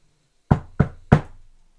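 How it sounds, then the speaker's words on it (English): Three firm knocks on a door, loud and close, evenly spaced about a third of a second apart, each with a short wooden ring, with no voices. "you hear a knock at the door."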